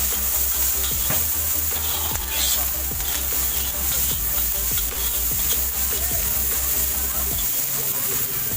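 Veg fried rice stir-fried with soy sauce, ginger and garlic at a fast food stall, steady loud sizzling with rhythmic scraping and tossing strokes of a spatula, voices faintly underneath.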